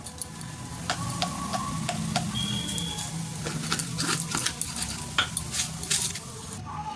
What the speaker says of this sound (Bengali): বিস্কুট টোস্ট বিস্কুট গুঁড়ো করে নিয়েছি এর সঙ্গে দিয়েছি হালকা করে লবণ জিরে গুঁড়ো আর একটু ধনে গুঁড়ো দিয়ে মিক্সড করে নেবো